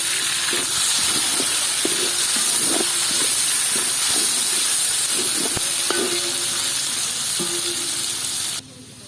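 Ginger and tomato sautéing in a pan over a village cooking fire, a steady loud sizzle and hiss with scattered stirring clicks and scrapes throughout, cutting off abruptly near the end.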